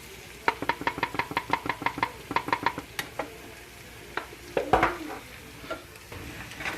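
Seasoned potatoes sizzling in a frying pan are stirred, with a quick run of sharp utensil scrapes and knocks against the pan, then a few louder clatters over a steady background sizzle.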